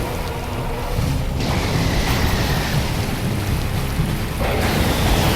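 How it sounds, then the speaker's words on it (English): A boss's multiple lightning bolt attack in the Dark Souls video game crackles and rumbles like a thunderstorm, a loud, dense, sustained roar with surges in intensity and no speech. "Oh, now he's using his multiple little lightning bolt things."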